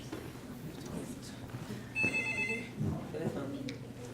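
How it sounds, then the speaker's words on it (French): A telephone rings with a series of bright, repeated trill bursts around the middle of the clip, heard in a bachata dance class setting over background room noise and murmuring. "Téléphone."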